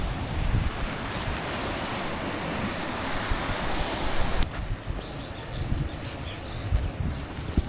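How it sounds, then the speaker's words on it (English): Very large ocean waves crash continuously along the coast in a dense, roaring wash of surf, with heavy wind buffeting the microphone and no voices. "these are really big waves"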